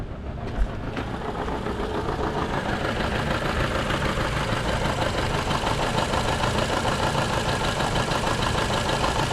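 A 2012 Toyota Camry that won't accelerate idles steadily, its engine giving a close, even mid-pitched hum with a faint rhythmic knock throughout, plus a brief clunk near the start and no talking.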